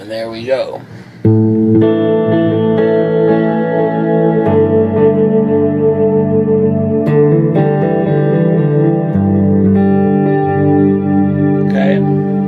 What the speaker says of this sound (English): So here I'm going to switch again to the delayed sound.